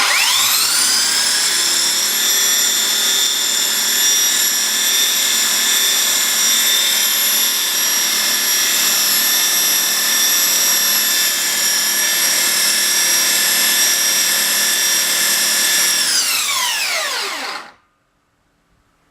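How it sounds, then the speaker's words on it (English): A Skilsaw motor converted to run on DC whines at a high, steady pitch for about seventeen seconds, loud and close, then spins down and cuts out abruptly. "Very powerful motor, so we're going to put this on the bike and see if it'll work."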